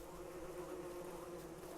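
A bee buzzes in the video game Don't Starve, a faint, steady insect drone with a low hum underneath, continuous and unbroken with no speech over it.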